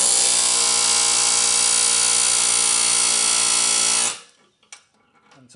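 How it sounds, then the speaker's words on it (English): Air hammer working a seized bolt on a Dodge Nitro, a loud, steady high-pitched pneumatic rattle running continuously for about four seconds before cutting off abruptly, followed by a few faint knocks. "I'm just, you know, hitting the bolt with my air hammer, and I'm moving this handle to start spinning."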